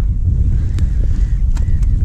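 Wind buffets a microphone outdoors beside the water while fishing for crucian carp on the Dnieper, a steady low rumble filling the whole clip with no talking.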